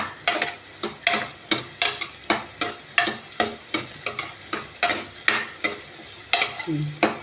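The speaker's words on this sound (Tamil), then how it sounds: "நல்லா சூப்பராக வதக்கி விடணும். கொஞ்சம் பொன்னிறமாக வந்த பிறகு வரைக்கும் அது வதக்கி விடணும்." Onions sauté in a pan toward golden, a spatula scraping and tossing in a regular rhythm of about two strokes per second over a constant frying sizzle, close and clear.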